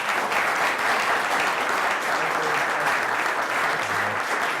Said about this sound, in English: So if you just give a quick round of applause for Peter.